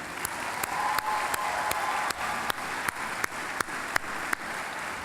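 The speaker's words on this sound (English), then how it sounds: "I'd ask you to join me in a round of applause for your family members and your parents" Graduation audience at the 2018 Shiv Nadar University convocation applauds in a steady, dense wash of clapping with sharp individual claps standing out. It is sustained and fairly distant, with no talking over it.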